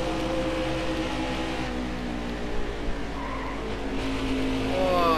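A race car in NASCAR Heat 5 brakes hard, its tires squealing and skidding over a steady, loud engine roar that holds throughout with no voices.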